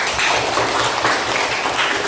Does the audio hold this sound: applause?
yes